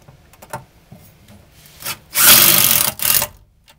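Self-tapping screws are power-driven without pilot holes into a steel running board bracket on a Ford Transit, giving a few quick clicks and then two loud whirring bursts, close by.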